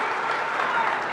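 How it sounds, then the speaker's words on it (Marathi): A political rally crowd breaks into dense, steady applause, a brief unbroken burst of many hands clapping close and loud. "टाळ्या याकरता वाजवू नका, पुढच्या गोष्टी करता टाळ्या वाजवा"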